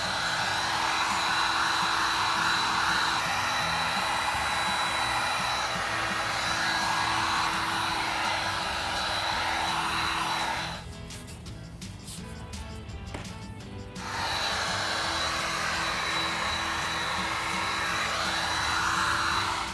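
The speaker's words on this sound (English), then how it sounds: "I'm gonna do some heating with the heat gun, and Britt's gonna do some forming" Heat gun blowing hot air onto EVA foam, a loud, steady whooshing hum that runs throughout, briefly shifting to a lower, rougher tone midway before returning to its even blow.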